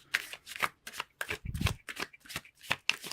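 Tarot cards being shuffled by hand, a quick, soft run of close papery riffles and slaps repeating steadily, quiet and without any voice.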